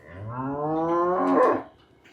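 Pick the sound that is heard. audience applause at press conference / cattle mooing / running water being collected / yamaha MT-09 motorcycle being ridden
cattle mooing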